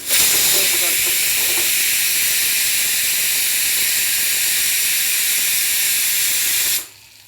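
Cumin seeds hit hot oil for Punjabi-style dal makhni, giving a loud, steady, close sizzle and hiss that runs unbroken for several seconds, then cuts off abruptly near the end.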